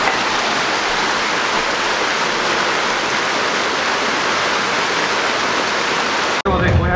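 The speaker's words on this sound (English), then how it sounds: "And then, as always, our little fountain." A small outdoor water fountain splashes in a steady, dense rushing wash of falling water, close and loud, unbroken until an abrupt cut near the end.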